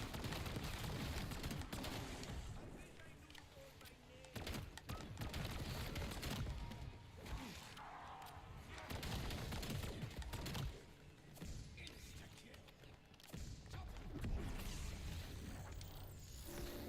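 Gunfire in Black Ops 7 fills the whole stretch as dense, continuous bursts of automatic shots and thumping impacts, loud and busy with little pause, with a faint voice now and then beneath the shooting.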